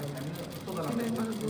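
Domestic sewing machine stitching a baby frock, running steadily throughout with a continuous mechanical hum and whir, while a person talks over it.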